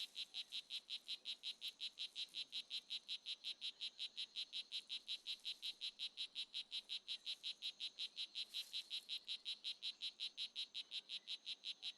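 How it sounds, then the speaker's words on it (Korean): A male strawberry poison dart frog calls in humid Costa Rican forest, a rapid, evenly pulsed buzzing trill that repeats steadily and closely without pause, with no voices. "수컷은 암컷의 관심을 끌기 위해 울음주머니를 크게 부풀린다"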